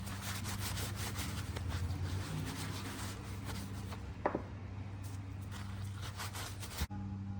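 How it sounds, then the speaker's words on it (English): Caliper guide pins from the rear brakes of a 2016-2021 Honda Civic being wiped and scrubbed clean, a faint steady rubbing over a low background hum, with a brief sharp clink near the end. "I'm going to go ahead and clean the caliper guide pins."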